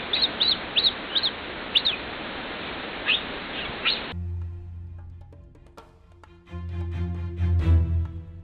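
Sharp, bird-like chirps from a cougar, a string of short high squeaks in quick bursts, then quieter chirps with low rumbling noise following.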